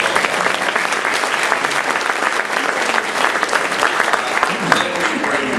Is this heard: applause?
yes